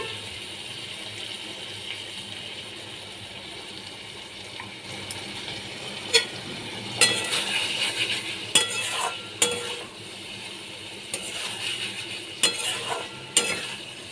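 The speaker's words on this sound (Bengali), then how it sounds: "এখানে আমি আরও কিছুটা সর্ষের তেল দিয়ে দিচ্ছি" Small fish cook in mustard oil in a pan, a steady close sizzle and hiss broken by repeated metallic clinks and scrapes of a stirring spoon, with no talking.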